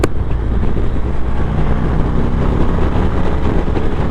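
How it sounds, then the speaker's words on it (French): A Harley-Davidson Street Glide CVO motorcycle engine runs at a steady loud low rumble, with wind buffeting the microphone throughout while riding; no voices. "une sonorité qui reste présente et très reconnaissable, et on sait qu'on est bien chez Harley"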